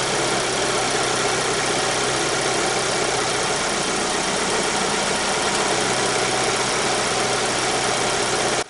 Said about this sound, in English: Now with the engine running, you should hear the engine speed drop a little